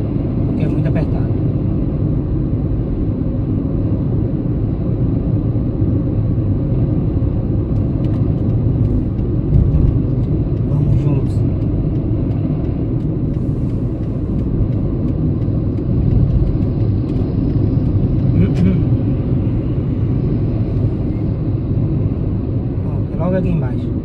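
Car engine pulling in second gear through a tight turn in traffic, a steady loud rumble from inside the cabin throughout, with a driver talking over it.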